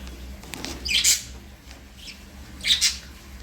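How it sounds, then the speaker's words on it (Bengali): Lovebird chicks give two short, high, squeaky bursts of calling about a second and a half apart, fairly close, over quiet room noise. "এইখানে আমার লাভবার্ড পাখির যে বাচ্চাগুলো রয়েছে"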